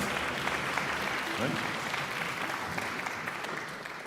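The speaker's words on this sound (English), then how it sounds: "round of applause for Jackson, Sejin, Mark, Sebastian" Audience applause for the musicians at a live Meadows Symphony Orchestra ballet concert, a dense steady wash of clapping filling the hall throughout, with a voice speaking briefly over it.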